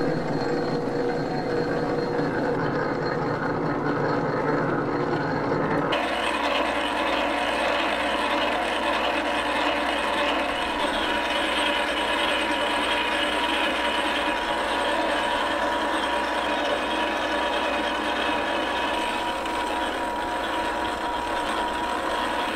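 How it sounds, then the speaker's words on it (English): Lathe cutting 5/8-11 left-hand threads, a steady loud mechanical whir with grinding, ratcheting gear noise that shifts in pitch partway through, continuous and close with no talk. "So I'm going to start cutting these left-hand threads going from left to right."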